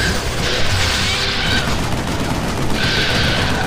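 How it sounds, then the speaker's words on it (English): Sustained gunfire and explosions from the shooter game Vanquish form a dense, continuous wash of shots and blasts, loud and steady for a few seconds with no voices over it. "Just keep shooting till I'm out of ammo and throw grenades."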